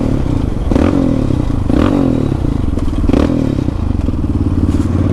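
Motorcycle passing on a leafy dirt trail, engine surging loud and close with repeated revving bursts, clattering thumps and scraping over rough ground throughout.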